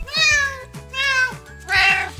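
A cat meows three times, each meow drawn out and tonal with clear pauses between them, loud and near and heard alone without talk.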